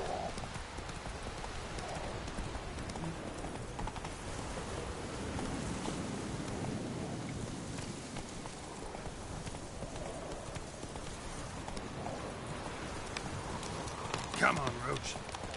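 Roach, Geralt's horse in The Witcher 3, gallops with rapid rhythmic hoofbeats under a constant wash of ambient game sound, moderately loud, with a brief louder burst near the end.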